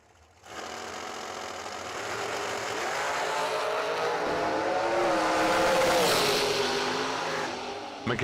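Drag race cars launch down the strip at a night event, a loud roaring engine wall that surges in after a moment, swells and holds, then cuts off near the end, with faint voices beneath.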